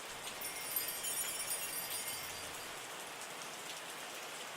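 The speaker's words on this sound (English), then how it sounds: "Just months and months of rain, really hard to keep up with it." Heavy rain falling steadily across a vineyard in the wine-making simulation game Terroir, a dense, even hiss with no voices.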